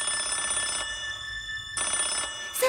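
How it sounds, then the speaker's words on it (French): Telephone ringing unanswered, two bursts of bright electronic ring separated by a short pause, moderately loud and close, with the start of a third ring cut off at the end. "Ça ne répond pas, Sinistra"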